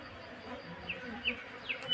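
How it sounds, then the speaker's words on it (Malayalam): Large and small honey bees fighting over honey produce a faint, steady buzzing, with a few brief, louder passes of single bees darting close by. "വലിയ തേനീച്ചയും ചെറു തേനീച്ചയും കൂടി ഫൈറ്റ് നടക്കുകയാണ്."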